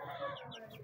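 A broody hen sitting on eggs in a newly built cage gives a brief, close, low throaty cluck, a single continuous murmuring call under a second long.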